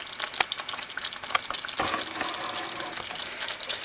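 Thickening tomato pasta sauce sizzling and spitting in a pan, a dense continuous crackle with scattered sharper pops and a brief splashy burst midway, close and steady, with no voices.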